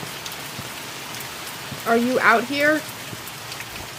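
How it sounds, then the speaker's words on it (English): Steady rain falls outside in the horror game The Mortuary Assistant, a constant close patter of drops that runs under a short spoken line. "Of course it had to be raining. Could it have not been raining?"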